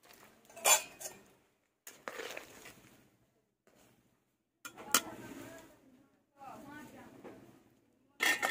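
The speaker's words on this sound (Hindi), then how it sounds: "इसमें उबाल आ गया है तो अब हम लोग एक एक मछली डाल देंगे।" Fish pieces are dropped one by one into boiling curry in a pot, giving separate clanks and splashy thuds with pauses between them, close up, while a person talks.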